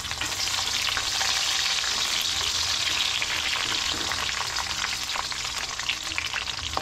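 Okra fries in a pan with a continuous, even hiss and crackle of hot oil that runs steadily throughout.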